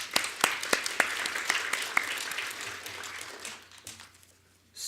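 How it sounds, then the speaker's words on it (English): Audience applause at an opioid forum panel: a smattering of distinct, fairly close claps that thins out and fades toward the end, with no talk over it. "A round of applause for all of you."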